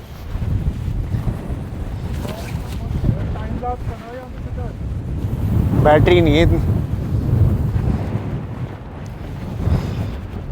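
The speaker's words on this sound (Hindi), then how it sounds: "इतनी तेज हवा आ रही है।" Strong gusting wind on an Alpine mountain road, roaring buffets rushing across the microphone and rising and falling throughout, while people talk over it.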